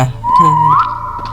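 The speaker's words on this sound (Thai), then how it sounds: "ผิวปากเล่นดีกว่า" A single person whistling a short rising tune in a dark, empty indoor space, one clear close whistle lasting about a second.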